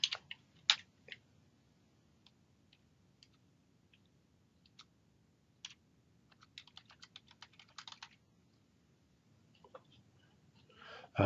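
A computer keyboard clacks in faint, sparse bursts of keystrokes against a quiet room hum, with short runs of quick typing between pauses.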